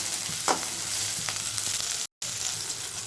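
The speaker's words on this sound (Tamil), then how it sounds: "ஸோ இது நல்லா இப்போ வதக்கிக்கலாம்" Kurma ingredients sautéing in a pan, a close, even frying sizzle with a few light spatula scrapes and a brief dropout of silence, no one speaking.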